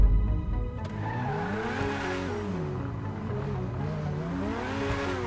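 A car in the video game GTA 5 driving with engine revs rising and falling and tires squealing through turns, a steady, fairly loud run with no talking.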